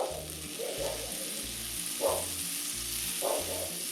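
Pancakes frying in butter in a hot pan give a steady close sizzle, with a few brief louder spatters breaking through the continuous crackle.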